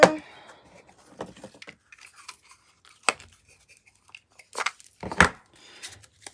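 Memory game cards are picked up and gathered by hand, giving scattered soft shuffles and a few sharper papery slaps and rustles, close by with quiet gaps between.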